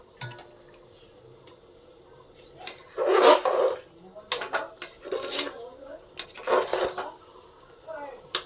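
A spoon scrapes and clinks against a cooking pot as dalia (broken wheat) and dal are stirred into fried spices, a few bursts of metallic scraping with quiet gaps, with some talking in the background.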